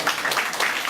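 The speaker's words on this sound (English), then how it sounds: "Again, a big round of applause to" Conference audience applauding at an SEO event in Iloilo, a short, steady wash of many hands clapping with no break in the sound.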